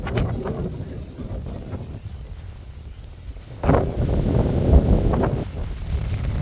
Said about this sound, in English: It's a tad bit windy up here